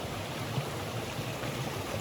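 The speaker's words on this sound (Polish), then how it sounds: "Z każdym dniem wody jest coraz więcej i coraz głośniej." Rushing stream water flows steadily beside an old house, a continuous broadband roar that stays loud and even throughout with no voices.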